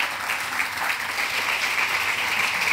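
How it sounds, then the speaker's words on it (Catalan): A live audience gives a steady, dense round of applause as the chef Jordi Artal is introduced, sustained and fairly loud with no break. "Un aplaudiment per ell, sisplau."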